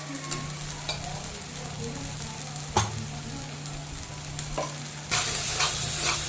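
Mushroom curry masala with turmeric sizzles steadily in hot oil, close and clear, with occasional sharp clicks of a spoon stirring and a louder surge of frying toward the end.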